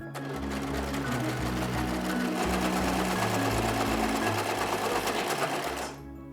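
A sewing machine stitching fabric runs steadily and loudly up close, its rapid needle clatter continuous with a low motor hum that shifts pitch as the speed changes, stopping near the end.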